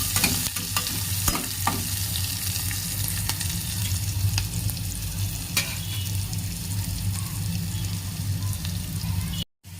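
Sliced onions frying in a pan give a steady, close sizzle with occasional spoon-stirring clicks, running unbroken until a brief drop-out just before the end.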